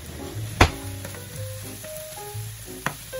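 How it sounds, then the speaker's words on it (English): Mushrooms sautéing in a pan with a faint steady sizzle, broken by a sharp clack of a spoon against the pan and a second lighter knock later. "we're gonna saute the mushrooms"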